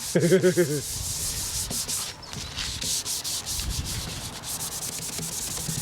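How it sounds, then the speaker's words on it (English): Cloth rubbing and wiping gunk off motorcycle pannier protection, a continuous close scrubbing with rhythmic strokes, preceded by a brief tonal squeak at the start. "let's wipe all the gunk and crap off here"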